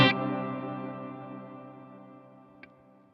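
A single guitar chord rings out through a Wampler Ethereal reverb pedal with the tone control turned down, sounding dark and warm, then decays slowly into a long reverb tail, with a faint small tap near the end.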